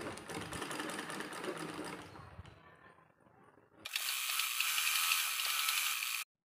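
A sewing machine runs a straight seam on a petticoat, whirring steadily up close, then pausing briefly before a second, brighter burst of stitching that stops abruptly.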